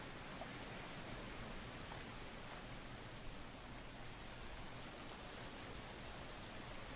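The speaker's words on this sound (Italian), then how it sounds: "Allora, qua c'è un fiume." A river flows in the survival video game Green Hell, a faint, even broadband rush of water that holds steady throughout with no talking.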